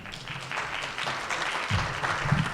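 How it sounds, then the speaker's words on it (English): Scattered applause from a forum audience at a policy presentation, moderate clapping of many hands that holds steady and grows slightly louder toward the end, with no voices over it. "You guys don't have to clap for me"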